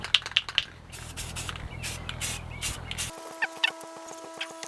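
Short bursts of aerosol spray paint hissing onto a scooter fork being painted blue, several separate sprays in uneven rhythm, close by, with a steady low hum in the background that cuts out partway through.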